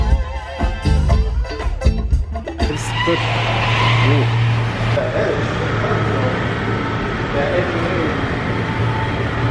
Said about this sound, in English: The tire does not sound good